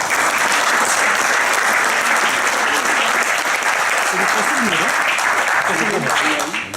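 A large audience applauds loudly and steadily at a sports event in Avranches, the dense clapping sustained for several seconds with a voice faintly heard beneath it.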